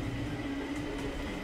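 A fast train running on rails on the last service to Mitaka, heard as a dense, continuous rumble and rattle at steady level with no talk.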